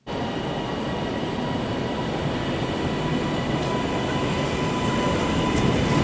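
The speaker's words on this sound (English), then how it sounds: "The train eventually showed up, albeit incredibly late." A train pulls into a station with a loud, continuous rumble and rolling wheel noise that holds steady and swells slightly toward the end, close by and with no talking.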